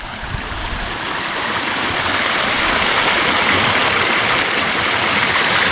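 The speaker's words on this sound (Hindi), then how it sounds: "ऊपर से देखिए एकदम प्योर पानी उतर रहा है और यहाँ पे बन रहा है छोटा सा वाटरफॉल।" A small waterfall of clear water tumbles in an outdoor village setting, a loud, constant broadband rush that swells slightly and continues unbroken with no talk over it.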